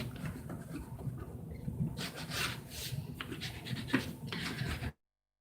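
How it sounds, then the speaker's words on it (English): Chipboard being rubbed down by hand for a postcard album, a steady close scraping rasp running continuously for about five seconds with irregular louder strokes, then stopping abruptly. "I'm just going to rub this down."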